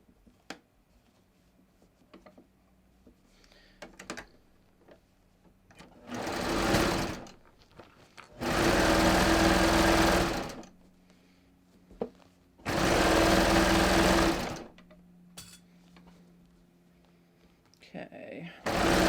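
A sewing machine stitching lined leggings runs in three loud, steady bursts, a short one and then two longer ones of a few seconds each, separated by quiet handling and fabric rustle.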